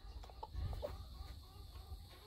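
Laying hens with a production red rooster on a farm give a few short clucks over a low background rumble, close and moderately loud within a brief stretch.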